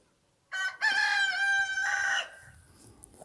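A rooster crows once, loud and close, its drawn-out call lasting nearly two seconds before trailing off into quiet outdoor air.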